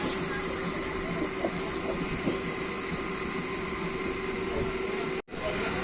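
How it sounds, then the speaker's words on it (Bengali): Steady rumbling and hissing of a Howrah–Amta local train rolling along the tracks, constant and close, with a few faint clicks and a brief dropout near the end. "আমাদের ট্রেনটা বাদিক দিয়ে চলে যাচ্ছে আলাদা করে"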